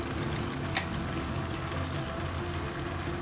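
Dried Bombay duck fish being stirred and fried in a pan, a steady close sizzle with a faint scrape of the utensil, no talking.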